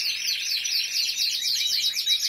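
A bird chirps in rapid, high repeated twittering notes, a continuous bright trill sounding close and clear, with no talk.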